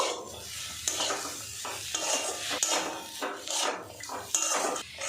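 A spoon scraping and stirring through fried potatoes with chopped tomato and chickpeas in a pan, in repeated close strokes over a faint sizzle.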